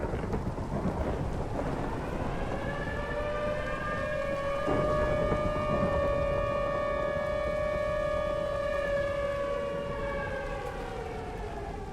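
A tornado warning siren in the Minecraft Weather and Tornadoes mod wails in a long rising and falling tone over steady rain and storm rumble, loud and continuous.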